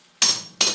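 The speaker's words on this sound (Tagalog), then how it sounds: "Pagpupukpok po ng martilyo" Two sharp, loud hammer strikes land about 0.4 seconds apart on a construction job, each one ringing out briefly.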